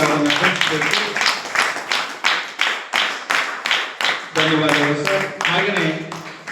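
An audience claps together at a Kannada Rajyotsava cultural and literary gathering in Gadag, the claps loud and fairly rhythmic in quick bursts, with voices audible through the applause.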